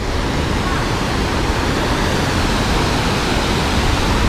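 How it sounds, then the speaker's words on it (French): A waterfall in Quebec, seen from a busy bridge, roars as a steady, loud broadband rush of falling water with no pauses, filling the whole span evenly. "donc ça c'est les chutes"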